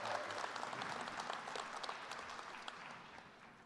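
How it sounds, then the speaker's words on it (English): Audience applause at a spring college commencement ceremony, a steady wash of many hands clapping at moderate distance, fairly quiet and sustained, easing slightly toward the end. "One more round of applause."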